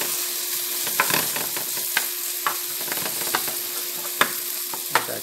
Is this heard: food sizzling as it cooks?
yes